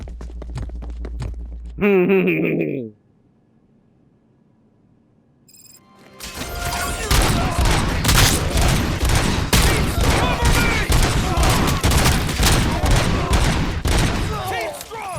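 Gunfire in Robocop: Rogue City erupts after a short electronic intro and a quiet gap, a dense, continuous barrage of rapid shots that stays loud to the end.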